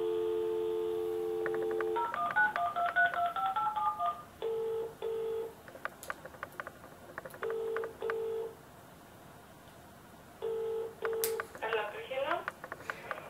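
DTMF tones of a telephone being dialed for a phone call, clear beeps in bursts with a dial tone and ringing tones between them, heard close with no talking.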